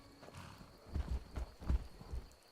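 Horse hooves clip-clop in Skyrim, a short run of soft, evenly spaced thuds on ground at a walking pace, fairly quiet and close with no talk over them.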